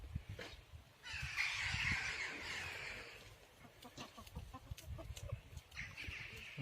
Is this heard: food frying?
no